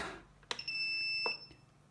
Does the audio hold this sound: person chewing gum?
no